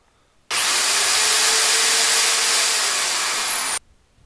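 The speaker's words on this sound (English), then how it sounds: "it's able to run small power tools such as this 7 amp power drill" A handheld 7 amp power drill, run from a DC to AC power inverter, whirs at a steady high pitch for about three seconds, starting and stopping abruptly in otherwise quiet surroundings.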